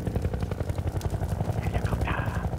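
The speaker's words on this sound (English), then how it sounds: "Helicopter." A helicopter in Half-Life 2 thumps with steady, rapid rotor pulses throughout, close and fairly loud, while a voice is heard faintly underneath.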